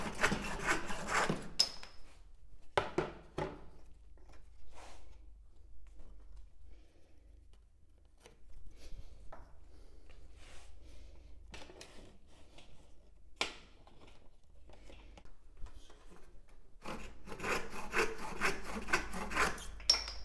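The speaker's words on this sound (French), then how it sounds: "ce qu'il me reste encore à faire, c'est de scier dans ce bois rond un certain nombre de chevilles." A hand saw cuts dowels from a round wooden rod in a quiet workshop, with rasping strokes at the start and end and sparse, faint scraping and handling sounds in between.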